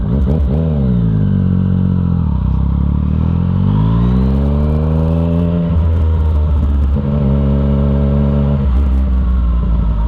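A Yamaha FZ-09 street bike with an Arrow exhaust and the dB killer removed rides past, loud and close. Its engine revs up through rising gears, drops back, then climbs again in a throaty, raspy roar.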